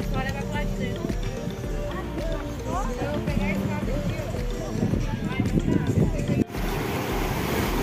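Sea waves wash onto a beach at Meaípe near Guarapari, Espírito Santo, heard as steady surf beneath heavy wind buffeting on the microphone, while a person talks over the roar.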